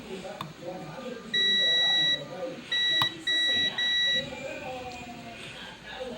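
A multimeter's continuity buzzer sounds while a suspected shorted MOSFET in a Samsung MX-HS7000 Giga Sound system is probed, giving one long tone and then three shorter beeps. Someone speaks quietly underneath.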